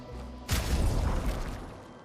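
Marking shots fired in the video game Clair Obscur: Expedition 33, a single sudden booming burst that rings out and decays over about a second and a half, fairly quiet overall.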